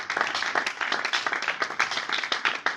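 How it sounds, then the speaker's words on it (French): Church congregation at a Sunday thanksgiving service clapping together, a dense continuous patter of many hands, loud and sustained throughout. "Acclame pour la gloire du Seigneur. betela nkolo maboko."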